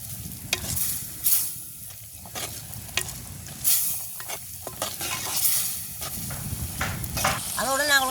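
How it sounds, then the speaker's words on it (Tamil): Spiced village-style curry being stirred in a pot, with repeated scraping strokes of a spoon against the metal over a steady frying sizzle, and a few brief clinks, close and moderately loud. "அளவாக கொஞ்சம் தூளும் சேர்த்தோம் எல்லாம் கிண்டி விடுவோம்"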